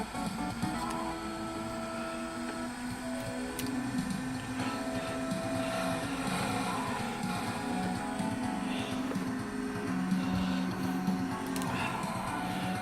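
Emulated car engine from the Daytona USA arcade racing game running on a converted cabinet, a steady synthetic drone with shifting whining tones and gear changes, continuous at moderate level.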